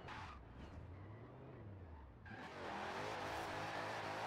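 Toretto's Dodge Charger in Forza Horizon 4 idles with a low, wavering muscle-car burble, then roars sharply louder as the V8 revs up and holds a rough, sustained drone.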